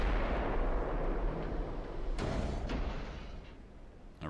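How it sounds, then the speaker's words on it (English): Heavy naval gunfire in the warship game Ultimate Admiral: Dreadnoughts, a sustained deep rumble of cannon fire with a couple of sharper cracks from ricochet shots partway through. "Now we're getting more ricochet shots, which always seems to happen"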